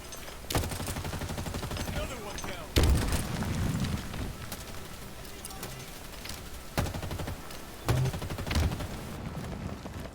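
Grenade explosions in Halo Infinite, several sharp booming blasts spaced a few seconds apart over continuous game noise, with a person talking underneath.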